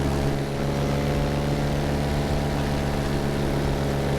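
A light propeller aircraft drones steadily in flight at dawn over the Yorkshire Dales, a loud, even engine hum heard from inside the cabin with no talking.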